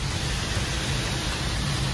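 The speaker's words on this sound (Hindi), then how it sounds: "सो भाई चल रहे हैं आराम आराम से, 10-15 मिनट में घर पहुंच जाएंगे, बहुत खतरनाक बारिश है, मतलब तेज, काफी तेज बारिश है" Heavy rain drums steadily on a car on the NH-48 highway near Delhi, a dense, loud, unbroken hiss of water pounding the roof and glass with no pauses.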